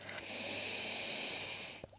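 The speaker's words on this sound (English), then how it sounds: "So breathing in." A slow, steady in-breath during a gentle beginner yoga practice, a soft airy hiss swelling and fading over about two seconds, close and quiet with no talking.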